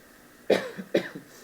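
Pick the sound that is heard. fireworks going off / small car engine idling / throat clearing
throat clearing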